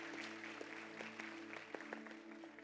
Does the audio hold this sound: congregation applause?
yes